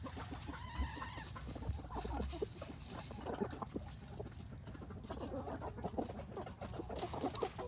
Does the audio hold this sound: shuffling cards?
no